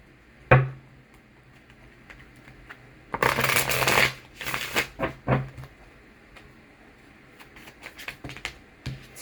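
A deck of tarot cards being shuffled up close, with a sharp riffle and then a long run of quick flapping bursts and clicks broken by short pauses.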